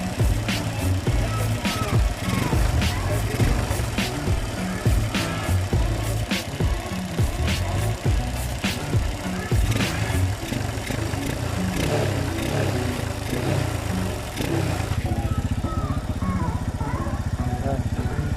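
Motorcycle engine on its stock setup before a power tuner patch is installed, running close and loud with an uneven, choppy idle and occasional revs throughout, while someone speaks at times.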